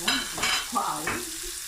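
Garlic, green onion and white leek hitting a hot pan, a steady close sizzle with some stirring.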